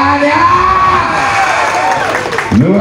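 Audience at a Kaligesing PE goat contest in Banjarnegara cheers and claps as the top four Class E does are announced, a dense, loud crowd roar throughout with talk over it.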